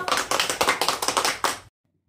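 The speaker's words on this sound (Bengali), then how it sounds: "সবাই হাততালি দাও।" A small group claps quickly and evenly after singing happy birthday at a family gathering, about two seconds of brisk applause that stops abruptly into silence.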